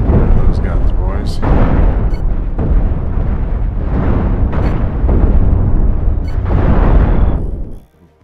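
Point defence guns on ships in Cosmoteer fire in loud, dense bursts, a heavy rumbling barrage with sharp cracks punctuating it, continuing almost without pause before cutting off at the end.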